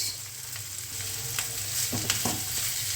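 Vegetables for vegetable thukpa, seasoned with salt, turmeric and garam masala, fry steadily in a pan while being stirred, with a continuous sizzle broken by a few scraping strokes of the spoon, close and moderately loud, no talking.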